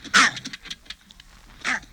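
A dog gives a couple of sharp, breathy barks or huffs while scrambling between rooms and pawing at windows, with scuffling and bumping noises in between, fairly close.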